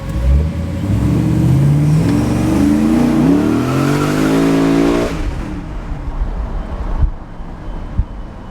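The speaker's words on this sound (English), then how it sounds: "we'll show you what it looks like when we get on the gas a little bit" The large engine of an Icon Derelict rat rod revs up hard, its pitch climbing steadily as it accelerates, then drops off into quieter road noise with a couple of thumps.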